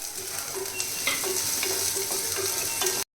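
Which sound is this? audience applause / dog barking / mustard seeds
mustard seeds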